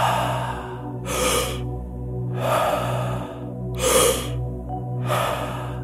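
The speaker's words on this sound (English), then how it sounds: "Breath number 4 is circular breathing, which is an inhale through the mouth, followed by an exhale out the mouth." A person does circular breathing through the mouth, a sharp audible inhale followed by an exhale, repeated in steady cycles with no pause between, close and alone.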